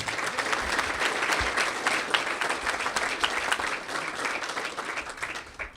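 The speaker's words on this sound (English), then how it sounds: "Let's give them a big round of applause." Sustained applause from an outdoor crowd at a veterans cemetery grand opening ceremony, dense steady clapping that holds for several seconds and tapers at the end.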